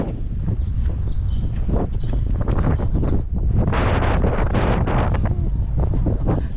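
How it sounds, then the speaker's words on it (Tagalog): Strong gusts buffet the microphone in a loud, roaring rush that swells and eases, with no voices, in cold weather in Lerwick, Scotland. "Sobrang lakas ng hangin, napakalamig."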